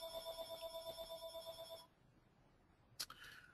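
A telephone rings steadily with a repeating electronic tone, then stops; a brief sharp click or beep follows near the end, with no voices.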